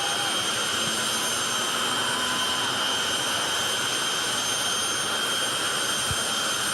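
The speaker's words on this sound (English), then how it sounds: "That's how fast those turbines are spinning in those jet engines." A jet dragster's turbine engine, its turbines spinning at about 18,000 RPM, screams with a steady, loud, high-pitched roar that holds constant throughout.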